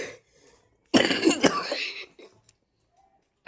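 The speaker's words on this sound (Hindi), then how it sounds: "काफ़ी खांसी इस वजह से आ रही, क्योंकि अभी थोड़ी देर पहले ही मैंने चाय पी थी" A woman coughs after drinking tea: a burst of several rough, close coughs and throat-clearing in a quiet room, followed by silence and a faint sound at the end.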